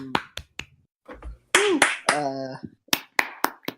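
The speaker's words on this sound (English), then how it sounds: "Why are you clapping?" One person clapping hands in a podcast setting, a few sharp claps at the start and a cluster of claps near the end, with people talking between them.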